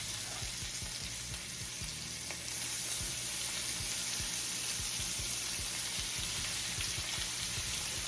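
Seafood sizzling and frying steadily in a hot pan for a seafood pasta dish, a continuous close crackle with small pops and occasional utensil taps, no talking.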